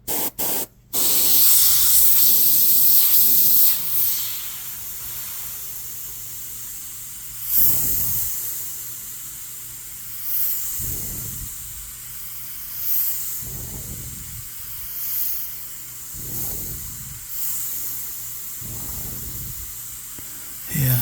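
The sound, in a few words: airbrush spraying, H&S Evolution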